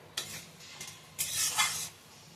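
Whole spices for a tempering in hot oil for dal, two short bursts of soft sizzling with light stirring, quiet and close, no voices.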